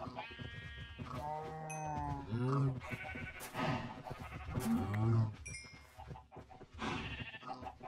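Several mooing cows in the video game Minecraft GT New Horizons, low drawn-out calls recurring a few times at moderate loudness, with someone talking over and between them.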